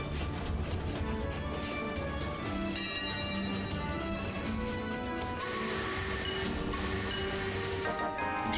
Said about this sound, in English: Ooh, it's a slow train. Ooh, even slower train